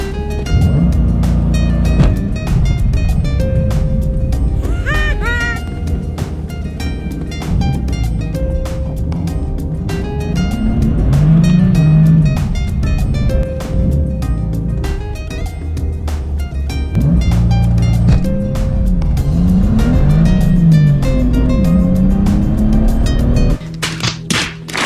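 A 2018 BMW M4 CS launching from standstill to 60 mph with launch control, loud engine revving climbing through repeated gear changes in rising and falling sweeps, heard from inside the cabin.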